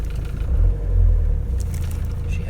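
Low rumbling drone of a Ford Transit mk6 van engine running in gear after a prop bearing replacement, heard close with a slight swell in the middle and faint scraping above.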